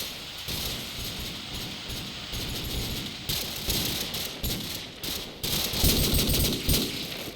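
Dense, continuous gunfire from the video game Call of Duty 4 in a competitive match, with overlapping bursts and rapid shots filling the whole stretch at a steady, loud level.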